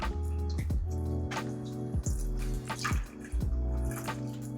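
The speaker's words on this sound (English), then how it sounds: "Now, I'm gonna add in a little bit more of that beef broth." Beef broth pours into a simmering spaghetti sauce, making a steady, continuous trickle with splashy, bubbling liquid and a few brief drips, close by and without talk.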